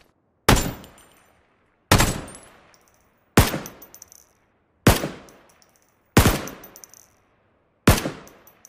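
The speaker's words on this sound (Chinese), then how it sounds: "落在较硬的地面会有很清晰的弹壳落地声" Six evenly spaced single gunshots in the video game Peace Elite, each followed by a bright, crisp metallic clink of shell casings landing on hard ground, loud and close with no talking.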